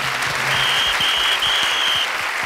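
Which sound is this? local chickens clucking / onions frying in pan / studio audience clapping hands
studio audience clapping hands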